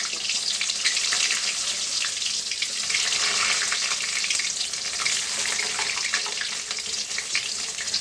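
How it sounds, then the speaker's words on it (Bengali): Boiled eggs slide into hot oil in a wok, producing a continuous loud sizzle and crackle that barely changes throughout. "তো একে একে আমি সবগুলো ডিম দিয়ে দিচ্ছি।"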